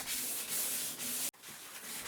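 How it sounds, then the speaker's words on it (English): Close hand sanding of a catamaran keel rubs steadily with a rhythmic scraping hiss, briefly cutting off before resuming. "I lay down the belt sander and pick up the manual sander"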